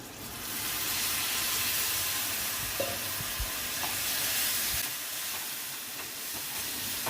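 Water poured into lightly fried spices in a hot pan for a fish curry, a loud continuous sizzling hiss that swells and settles, with a few small clinks, no voices.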